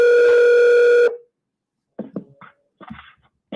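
A steady telephone dial tone hums loudly for about a second after a call drops, then cuts off, leaving silence broken by a few short, muffled bursts of sound.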